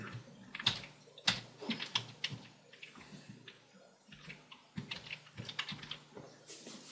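Fast typing on a computer keyboard, rapid clusters of key clicks in quick irregular bursts with brief pauses, close and fairly quiet, no voices.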